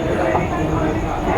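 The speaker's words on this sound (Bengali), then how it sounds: "এদিকে আমাদের ট্রেন চলে এসছে" Lalgola–Sealdah line train arriving at Ranaghat station, a loud, close rumble of the carriages with a constant roar and faint rail noise, platform chatter mixed in underneath.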